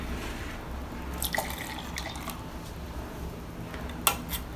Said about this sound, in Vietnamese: Chúng ta thêm một cốc nước nhỏ.